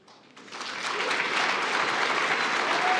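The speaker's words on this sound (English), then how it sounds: "Applause to Sonya, please." Loud applause from a crowd swells in after a brief quiet start, then holds steady as a dense wash of clapping.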